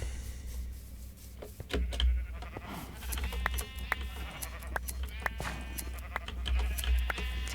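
Sheep bleat repeatedly in a Minecraft Skyblock modpack game, several short bleats at moderate loudness over a steady background hum with scattered clicking game sounds.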